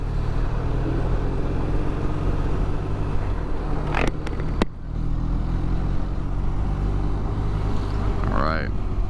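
A 2020 BMW R1250RT motorcycle threads through road traffic with a loud, constant engine and wind roar, a few sharp ticks cutting in midway and a brief rising whine near the end.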